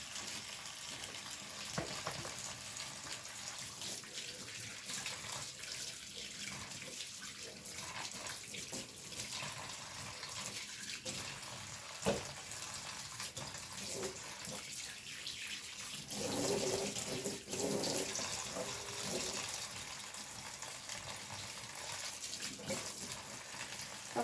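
Tap water runs steadily into a kitchen sink while raw chicken is washed, a continuous close splashing hiss with slight shifts as the pieces are handled under the stream.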